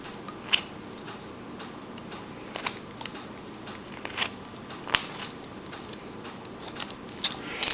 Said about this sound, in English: Like I said, I'm doing this with a knife.